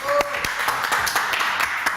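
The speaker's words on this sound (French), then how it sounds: "On l'applaudit." A studio audience at a French talk show claps for guest Michel Embareck's entrance, with quick, fairly faint hand claps and a voice speaking over them.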